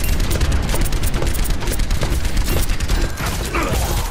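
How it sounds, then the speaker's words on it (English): Bombs lobbed by Dr. Junkenstein exploding in the Overwatch Halloween mode Junkenstein's Revenge, a rapid string of booming blasts and mechanical clatter, loud and close, in dense succession throughout. "Dr. Junkenstein lobbed his bombs at the castle."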